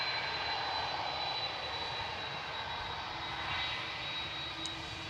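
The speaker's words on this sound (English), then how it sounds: "Aer Lingus heading back to Orlando, A330-300 EIK, flight 935." An Aer Lingus Airbus A330-300 jet at Manchester Airport gives a steady, distant engine roar with a broad rushing hiss that holds evenly throughout and has no voices over it.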